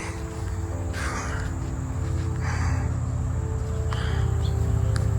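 Crows in a wooded nature reserve at Latrobe, Pennsylvania, giving three separate harsh caws at a middle distance over a constant hum of insects, no talking.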